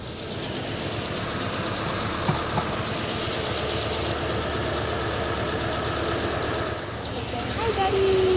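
A 1949 Meteor car engine with an overheating problem idles steadily up close, a continuous low rumble with a few small knocks and a brief dip near the end.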